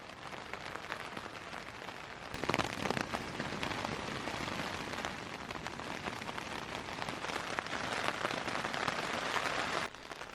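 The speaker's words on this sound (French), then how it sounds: "c'est parti pour une journée de patience sous la pluie" Steady rain drums on a tent during an all-day downpour, a dense, even patter that swells slightly partway through and stays close and continuous.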